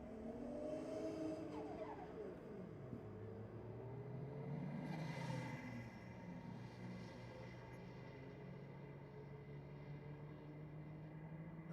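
Drag racing cars roar down the strip at Sydney Dragway during a diesel nationals event, a loud sustained engine drone with a pitch sweep as a car passes, heard from a distance with no talking.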